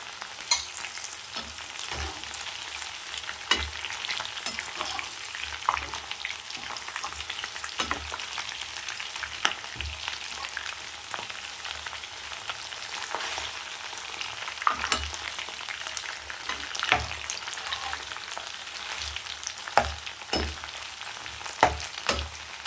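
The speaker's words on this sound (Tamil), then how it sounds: "இப்போ கருவேப்பிலை தழை சேர்த்துக்கலாம்." Curry leaves crackling and frying in hot oil with chilli chicken, a dense steady sizzle dotted with sharp pops and occasional stirring scrapes, close and continuous with no talking.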